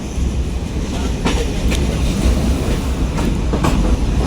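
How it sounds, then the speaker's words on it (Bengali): The Sundarban Express intercity train rolls into Poradah Junction in Bangladesh, running about 50 minutes late, with a loud steady rumble and periodic clickety-clack wheel beats over the rails, heard from on or beside the train. "ট্রেনটি প্রায় 50 মিনিট বিলম্বে প্রবেশ করছে।"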